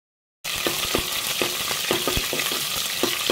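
Chopped onions hit hot oil in a home kitchen pan after a brief silence, giving a loud, steady sizzle that continues with soft stirring scrapes and knocks and no talking.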